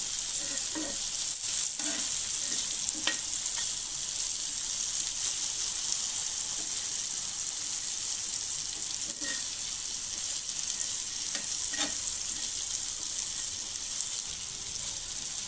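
Salted cluster beans fry in oil in a pan, a continuous loud sizzle and crackle with occasional soft stirring scrapes throughout.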